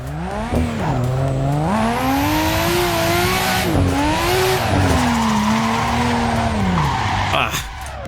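A car in Assetto Corsa drifts with engine revving up and down and tires squealing continuously across the slide, loud and close, while someone talks over it.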